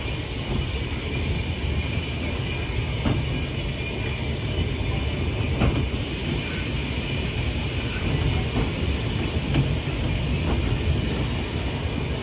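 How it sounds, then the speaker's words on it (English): A steam train on the Tanfield Railway coasts downhill from Andrewshouse toward East Tanfield during a steam gala, giving a steady, continuous rumble of carriages on the rails with faint clanks, heard alone without voices. "the train pulled out of Andrewshouse station with a downhill run all the way to Easttanfield station"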